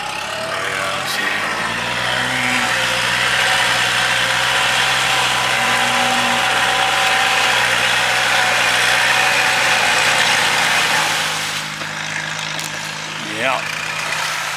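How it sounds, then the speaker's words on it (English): A steady engine drones close by at an even pitch for most of the clip, then drops lower and quieter near the end. "there's some tractor for you."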